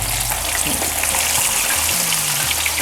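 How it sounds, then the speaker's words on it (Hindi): Chicken frying in hot oil in a kadai, a steady broadband sizzle and crackle running close and continuous from start to finish with no voices over it. "अब हम इसको एहतियात से उठा के ऑयल में डाल देंगे।"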